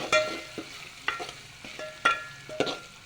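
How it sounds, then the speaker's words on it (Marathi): Bay leaves sautéing in a pan for village-style mutton curry: a few distinct metallic stirring scrapes and clinks roughly every second over a faint background sizzle, close and fairly quiet. "नंतर तेजपत्ता टाकूया आणि याला चांगल्या प्रकारे आपण असं परतून घेऊया"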